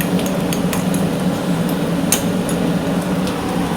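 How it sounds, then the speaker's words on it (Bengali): Sour yogurt is stirred into fried spices in a pan, with a steady low sizzle and scattered clicks and taps of a spoon against the metal, close and continuous with no talking. "টক দইটা দিয়ে কন্টিনিউ নাড়তে হবে, নাহলে কেটে যাবে"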